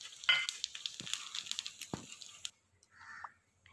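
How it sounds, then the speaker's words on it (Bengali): Cumin seeds hit hot oil in a kadai for a short, close burst of crackling sizzle with a few sharp pops and utensil taps, cutting off abruptly and leaving only faint hiss. "আর দেখো, জিরে ফোড়নে দিয়ে দিলাম।"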